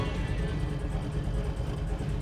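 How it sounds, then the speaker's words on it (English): A 1968 Chevrolet Camaro SS with a big block engine and a mild cam idles in a low, steady, faintly loping rumble, heard quietly with no voices. "Got a nice idle. Feels like it's got a little bit of a cam to it."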